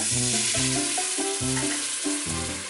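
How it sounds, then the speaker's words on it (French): Soy sauce splashes onto beef and onion in a hot Instant Pot, giving a short, steady sizzle with a repeating tonal pattern running beneath it. "Alors maintenant, j'ajoute la sauce soya"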